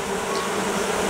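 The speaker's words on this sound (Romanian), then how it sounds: "Iată aici albinuțele cu glanda Nasanov deschise, ventilând să propage cât mai tare acest miros" Honey bees at a natural swarm hive fan their wings with Nasanov glands exposed, making a dense, steady, close buzzing drone that fills the whole moment without any voices.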